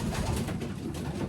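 Pigeons coo steadily and close together inside a loft, a continuous soft, throaty murmur of several birds with no pauses.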